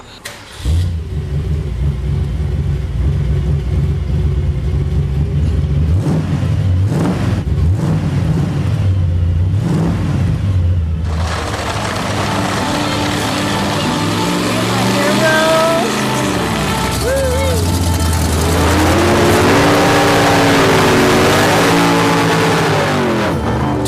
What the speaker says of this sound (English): Rose feels the Mustang is just about ready to hit the racetrack